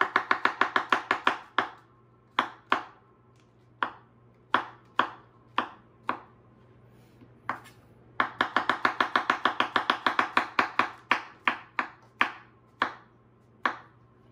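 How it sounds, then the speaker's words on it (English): A knife finely dices mushrooms on a cutting board in bursts of rapid, crisp chops with a few single taps between, close and alone. "I'm dicing this up really fine. So let's do our mushroom."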